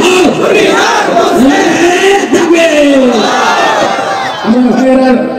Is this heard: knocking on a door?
no